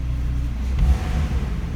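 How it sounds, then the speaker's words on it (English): A Porsche 911 Carrera Cabriolet GTS engine runs with a steady, deep low rumble close by, holding mostly even with a brief swell partway through and no talk over it. "I can hear the engine."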